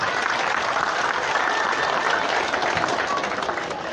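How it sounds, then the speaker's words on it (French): Schoolchildren at a classroom inauguration applaud together, a dense, even wash of clapping that holds steady throughout. "demander à tous les enfants d'applaudir l'association Projeto qui est là"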